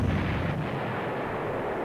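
Artillery fire in the Panzer Corps wargame, a loud, dense, sustained rumbling boom that fills the whole moment without a break or any voices.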